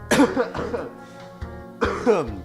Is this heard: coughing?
yes